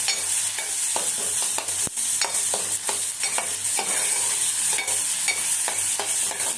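Tomato and onion stirred and frying in a pan with a little salt, a steady sizzle broken by repeated scraping strokes of a spoon, close and fairly loud throughout with no talking.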